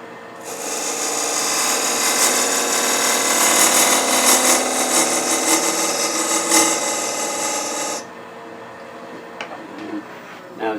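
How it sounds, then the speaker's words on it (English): Box scraper taking a finishing pass across spinning wood on a lathe, a steady loud rasping scrape that runs continuously for about eight seconds, then stops and leaves quieter workshop noise with a few small knocks. "This is a finishing pass. I use a box scraper."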